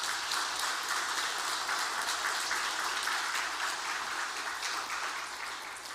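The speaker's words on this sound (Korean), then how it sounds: "박수 한번 해주세요." A church congregation claps during a Sunday worship service, a steady, moderately loud patter of many hands that holds evenly and then begins to taper off at the end.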